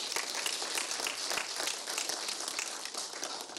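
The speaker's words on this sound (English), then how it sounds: "I think we deserve a round of applause" An audience applauds in a hall, dense steady clapping that is loud and sustained throughout with no voices over it.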